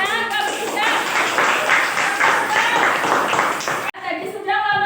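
A fifth-grade class claps for a presenting group, a brief burst of scattered hand claps mixed with children's chatter that cuts off abruptly, followed by voices speaking.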